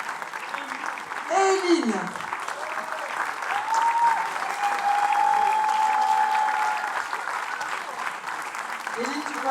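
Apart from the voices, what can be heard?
audience applause at a school ensemble concert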